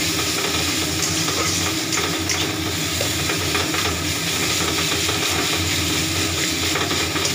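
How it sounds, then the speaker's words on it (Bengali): Food frying in a pan, a steady loud sizzle and hiss with stirring clatter running throughout, no voices. "এটা এখন ভালো করে ভাজতে হবে।"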